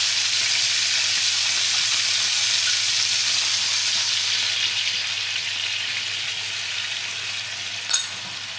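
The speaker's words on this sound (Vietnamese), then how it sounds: "Vậy khi mà mình chiên nó đã vàng mặt như vậy rồi nè bạn, giờ mình sẽ quậy cái nước sốt mình bỏ vô." Golden-fried chicken sizzles steadily in a pan as sauce is stirred in for lemongrass-chili chicken, a constant loud hiss that eases slightly toward the end, with a brief clink near the close and no talking.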